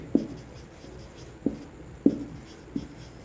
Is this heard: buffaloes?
no